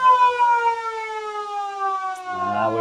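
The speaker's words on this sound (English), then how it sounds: "The siren is" A football ground siren at a country league match blares loud and sustained, its tone gliding slowly downward before fading as crowd and ground noise rises near the end.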